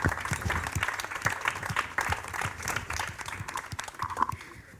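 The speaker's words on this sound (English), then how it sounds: "So a big round of applause for our panelists." An audience claps for panelists at an arts event, a moderate crowd of individual hand claps that stays fairly steady before fading slightly at the end.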